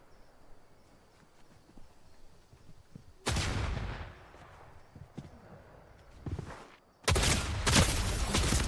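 Gunshots in Fortnite arrive as sudden loud bursts, a heavy blast and then a second sharp volley near the end, over a quiet background with faint scattered clicks.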